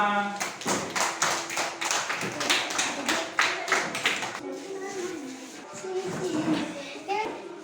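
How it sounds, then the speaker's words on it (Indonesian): A classroom of children clapping after a group discussion in a lesson on Pancasila, with uneven, scattered claps through most of the stretch and children's voices mixed in, fairly close and moderately loud. "Ya, tepuk tangan semua"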